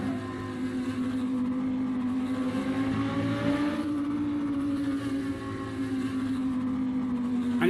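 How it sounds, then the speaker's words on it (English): Hypercar exhaust in the Assetto Corsa racing game, a steady droning engine tone with a slight pitch rise and fall as it is geared down, continuous and fairly loud with no talk. "Now the exhaust is nice. I like the way it sounds when you gear it down."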